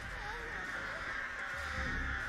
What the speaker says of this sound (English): We got those crows on there.